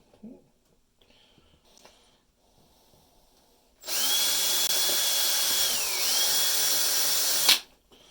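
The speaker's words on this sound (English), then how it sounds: "Last thing I like to do is drill a little weep hole in it." A power drill whirs steadily for several seconds drilling a weep hole in a converted LED bulb housing, its pitch dipping briefly mid-run before it stops, after some quiet handling noises.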